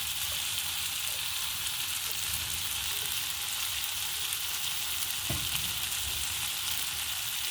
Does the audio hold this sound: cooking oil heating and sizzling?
yes